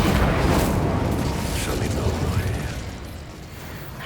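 Incendio fire spell cast in Hogwarts Legacy, a rumbling burst of flame with mechanical whooshes that gradually fades, game combat voices heard around it.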